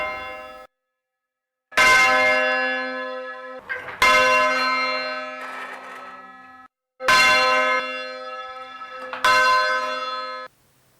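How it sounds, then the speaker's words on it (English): Church bells at Christ Church rung full circle in alternating hand and back strokes: two pairs of loud, ringing bell strikes with long shimmering decays, separated by brief silence, close and clear with no talk. "This is the short or hand stroke. And this is the long or backstroke."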